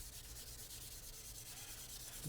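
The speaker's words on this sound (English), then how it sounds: "You don't have to really apply a lot of pressure, you're just scuffing the finish." Fine abrasive scuff sanding on the finish of a guitar neck's back makes a quiet, steady rhythmic rubbing with repeated light strokes and no talk.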